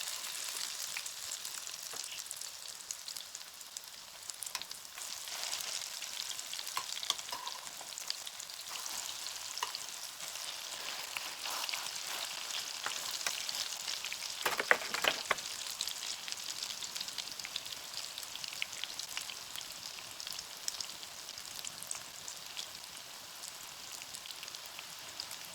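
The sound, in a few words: zucchini latkes frying in oil in a pan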